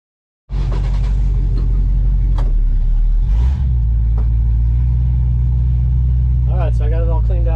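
A Chevrolet C10 truck engine rumbles loud and close through its exhaust, with a deep steady idle after startup and a few sharp throttle blips near the end.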